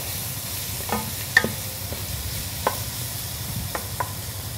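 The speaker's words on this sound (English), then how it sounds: "We're going to stir again." Chicken cacciatore sizzles steadily in a pan while a spoon stirs it, with occasional sharp clinks and scrapes against the pan rising above the low frying hiss.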